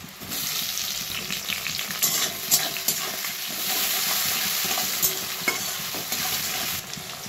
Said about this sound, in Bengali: টমেটোগুলো দিয়ে দেবো।